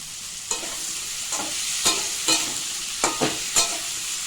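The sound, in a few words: pumpkin stalks frying and being stirred in a pan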